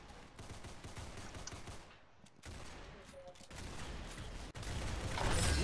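Rapid video-game gunfire in dense bursts, loud and continuous, with a brief lull midway and a swell near the end, mixed with game sounds and occasional voices.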